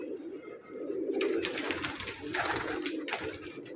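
Pigeons coo in a loft holding many fancy colored birds, low throaty calls close by, overlapped with fluttering and rustling bursts.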